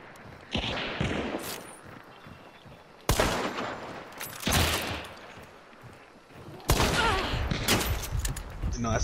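Gunfire from the Hunt: Showdown video game, three separate loud bursts of shots a few seconds apart, each striking hard and trailing off into a noisy ringing tail, with no talk during them.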